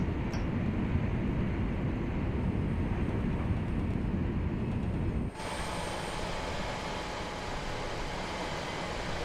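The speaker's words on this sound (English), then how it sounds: "This train better slow down." A train approaches in the Train Sim World 4 railway simulator, a steady loud rumble of wheels and engine that suddenly drops to a quieter, even roll about halfway through.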